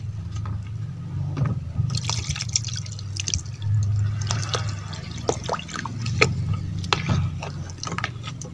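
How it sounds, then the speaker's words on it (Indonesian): Rice-washing water pours and splashes into an organic liquid fertilizer mix, a close, fairly quiet stream with scattered drips and wet squishing sounds and no voices. "Dan kita tambah airnya dari seukuran air cucian beras ataupun air jagaba seukuran 2 liter tadi"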